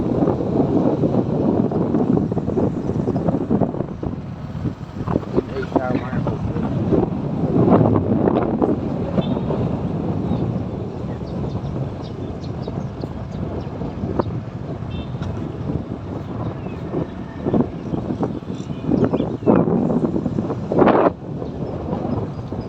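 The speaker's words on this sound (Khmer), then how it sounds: "ជិះម៉ូតូបានមកផ្លូវ" A motorbike rides along a village road while wind buffets the microphone in a steady, loud rush, with low rumbling gusts that rise and fall through the whole ride and no voices.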